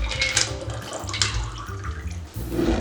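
A Sazerac cocktail is strained from the ice into a glass, with a steady close pour of liquid running continuously throughout, gurgling and splashing without any talking.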